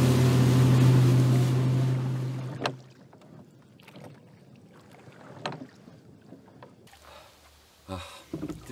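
A motorboat cruising at sea on the Finnish archipelago gives a loud, close engine drone with water rush for about three seconds, then cuts out, leaving faint wind and water noise.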